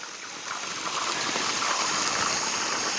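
Steady rushing water pours continuously from a pipe under high pressure from downhill, a dense broadband gush with no pauses, fairly close and loud throughout.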